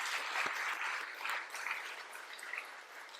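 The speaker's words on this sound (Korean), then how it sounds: "우리 수고하셨습니다 하고 한번 박수 한번 하겠습니다" Congregation applause for the worship team and choir at a Korean church Sunday service in Connecticut, a soft, steady patter of hands that stays fairly faint and even throughout.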